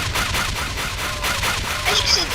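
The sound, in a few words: turret gunfire in video game Doomed 2 Die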